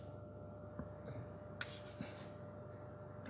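Marker or chalk scratches on a board during a lecture, a few short faint strokes and taps spread over a quiet room with a steady background hum.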